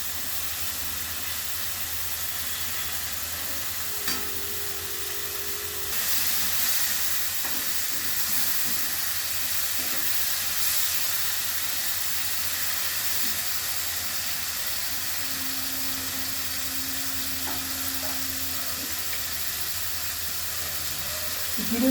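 Chopped tomato sizzles in a hot pan while shrimp and taro curry cooks, a steady close hiss running throughout with faint kitchen clatter and occasional soft tones.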